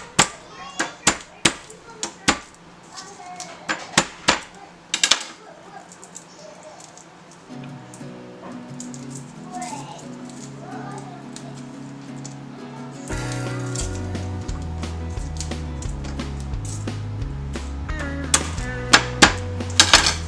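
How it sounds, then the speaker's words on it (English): Garlic cloves being chopped and minced with a knife on a cutting board, a run of quick sharp taps followed by softer rhythmic chopping, with a low hum and cooking sounds building underneath. "I've got 3 cloves of garlic that I'm going to peel and mince up"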